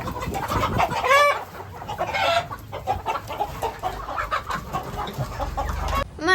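Domestic chickens kept at a house cluck and squawk in short, repeated bursts at close range, with a few sharper calls standing out against light background noise.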